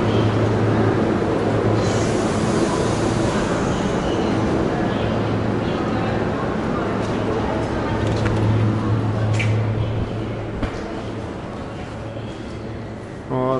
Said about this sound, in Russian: тут еще из Белгорода прибывает какой-то поезд